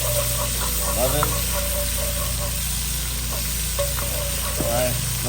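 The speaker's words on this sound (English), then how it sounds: "That nice sizzling sound." Onions and other food sizzle steadily in a hot pan, close and continuous, with occasional scraping stirs and a voice speaking briefly over it.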